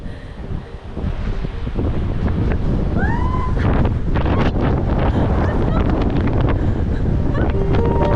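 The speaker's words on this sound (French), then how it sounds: "Il y a un de ces vents!" Strong wind blasting the microphone at Sunset Beach, a loud continuous roar and buffeting that rises after the first second and holds steady, with faint surf underneath and brief snatches of voices.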